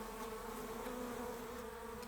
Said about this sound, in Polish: Ale już lecą ciężkie pszczoły.